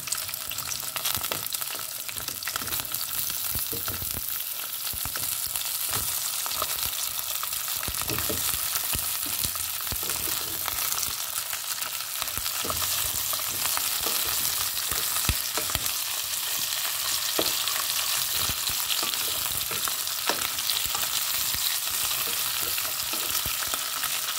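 Parboiled chicken feet frying in hot oil, giving a steady, dense sizzle with crackling pops that holds at an even level throughout.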